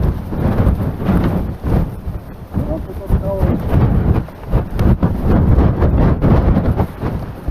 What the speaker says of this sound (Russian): О, жесть, какой ветер!